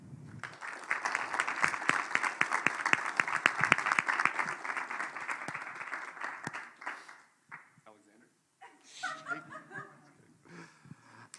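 Ceremony audience at a white coat ceremony applauds steadily and loudly as a speaker is welcomed to the podium, clapping fading out after about seven seconds as scattered laughter and voices follow.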